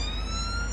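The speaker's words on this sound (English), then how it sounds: "There's an ambulance." An ambulance siren on a busy street corner, a steady wailing tone heard briefly and fairly loud over traffic rumble.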